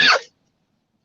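One quick, harsh cough right up close, cut off abruptly and followed by silence.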